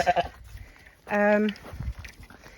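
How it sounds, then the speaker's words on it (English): Sheep bleat once loudly and clearly nearby on an off-grid homestead as they are let out to graze, with quieter bleats and light rustling around it and no talking. "I've started letting the sheep out"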